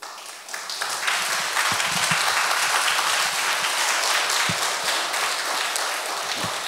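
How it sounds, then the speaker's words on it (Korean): An audience at a concert evening of poetry and music in Daegu breaks into loud, sustained applause, a dense wash of many hands clapping steadily for several seconds. "우리 박수 한번 크게 보내드립시다."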